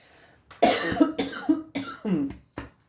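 A run of harsh coughs, about six or seven close bursts in quick succession, near and fairly loud with nothing else around them.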